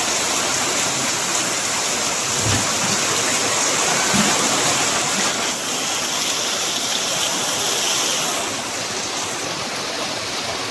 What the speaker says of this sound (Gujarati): વરસાદ તૂટી પડ્યો. કેટલો વરસાદ આવે, ધમધોકાટ બહાટી ધબધબાટી આવે.